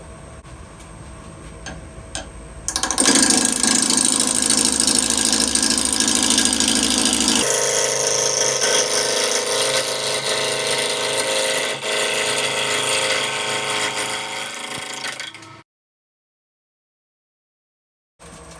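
A wood lathe spins up while turning a bowl at around 1000 RPM, giving a loud, steady hum with a shift in tone midway, then cutting out abruptly near the end.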